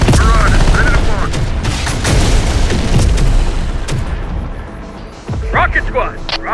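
Heavy rocket blasts and booming explosions in the combat game Terminator: Dark Fate - Defiance, set in Chihuahua, Mexico, pounding in loud repeated bursts with gunfire while voices shout over the battle.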